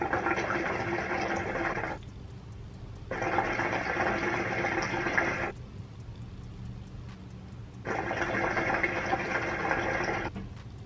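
Hookah water bubbles loudly in three long gurgling bursts as smoke is drawn through an Amazon Qiqici hookah, close up, each pull separated by a few quieter seconds.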